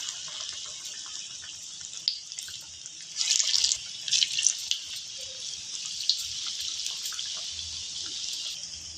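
Khandha bajji fritters frying in hot oil give a steady, fine sizzle with crackling bursts that swell briefly in the middle, heard alone at close range.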